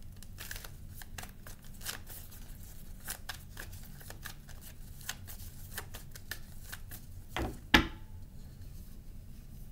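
Playing cards shuffled for a tarot-style reading, with a quick run of close, crisp riffling snaps that carry on steadily for several seconds, then a sharper knock near the end and quiet after.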